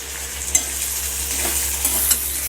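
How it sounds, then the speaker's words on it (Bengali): Fried potatoes tossed with three kinds of sauce in a pan hiss loudly and continuously, with a few stirring scrapes rising out of the close, bright sizzle. "এবার আলুটাকে নাড়াচাড়া করে নিই একটু"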